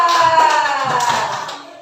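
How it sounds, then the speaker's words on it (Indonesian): Students in a classroom clap for a group, a brief dense burst of applause at close range that fades toward the end. "Nah, tepuk tangan dulu untuk kelompok 3 tadi."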